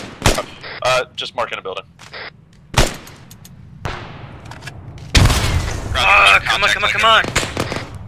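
Gunfire in ArmA 3 rings out in sharp, loud shots and short bursts, some near and some distant, mixed with crackling rounds under urgent voices of squad members talking.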